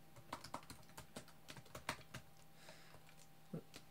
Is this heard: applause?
no